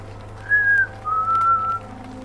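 Two clear whistled notes imitating a phoebe call, the first slightly higher and shorter, the second longer and a bit lower, ringing out over a low steady hum.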